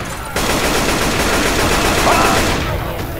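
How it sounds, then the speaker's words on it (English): Gunfire in the video game Left 4 Dead: a loud, dense, rapid burst of continuous shots lasting a few seconds, starting abruptly and tapering off toward the end. "You're shooting me."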